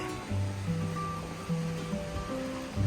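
Steady rushing of Coal Creek flowing, a continuous broadband wash with a low hum running underneath, fairly close and unbroken throughout.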